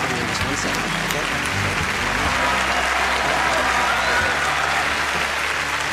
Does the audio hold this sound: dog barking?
no